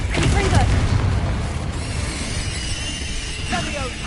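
A Confringo blasting spell in a Harry Potter video game lands as a deep boom with crackling debris. It fades into a lingering rumble, then a second burst follows near the end, with voice-like sounds mixed in.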